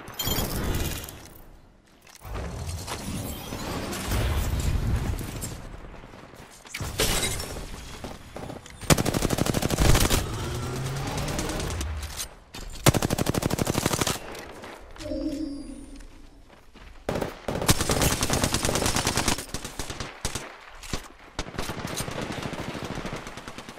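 Volt SMG fire in Apex Legends, rapid automatic bursts repeating throughout with short pauses between strings of shots, plus occasional game effects and players talking over the action.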